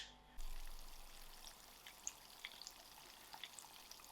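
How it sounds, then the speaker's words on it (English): A steady, faint sizzle of Southern fried chicken frying in oil, with scattered small pops and crackles and no talking. "the chicken is just frying out now"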